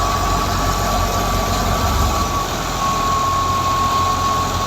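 A 2005 Al Ghazi tractor runs a wheat thresher, a loud, steady low engine drone with a constant mechanical whine held evenly throughout.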